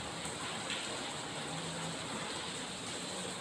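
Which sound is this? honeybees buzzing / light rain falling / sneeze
light rain falling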